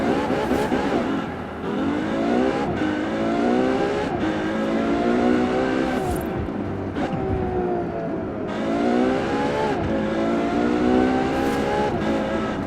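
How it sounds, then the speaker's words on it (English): KTM X-Bow GT4 in Forza Horizon 4, its engine revving and pulling through gear changes in a continuous loud drone, rising and dipping with each shift. "the car sounds not bad"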